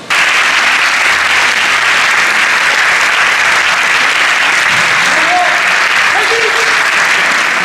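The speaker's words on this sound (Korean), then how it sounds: "강명희 대사관님을 박수로 맞이해 주십시오." A hall audience applauds steadily and loudly to welcome a Korean taekwondo master and ambassador at a taekwondo gathering, with the dense clapping sustained for the whole stretch.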